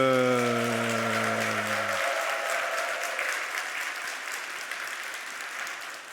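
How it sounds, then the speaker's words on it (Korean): Church congregation breaking into loud, dense applause with cheering, a sustained wash of clapping that follows a held musical note and gradually thins out over several seconds. "잘했다고 생각하는 만큼 환호성과 함께 박수."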